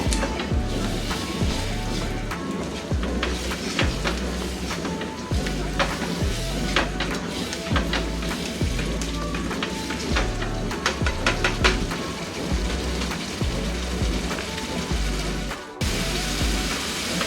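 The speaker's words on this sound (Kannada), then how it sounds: "ಇವೆಲ್ಲನೂ ಕೂಡ ಇದೇ ರೀತಿ ಎಣ್ಣೆನಲ್ಲೇ ಫ್ರೈ ಮಾಡ್ಕೋಬೇಕು" Ingredients for masala avalakki sizzle steadily in hot oil, a dense, continuous frying crackle with scattered pops and a low rhythmic clatter beneath, close and fairly loud throughout.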